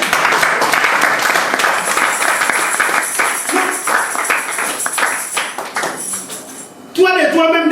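A church congregation claps and cheers in acclaim during a French-language sermon, dense applause sustained for several seconds, then dropping off as a voice starts speaking loudly near the end.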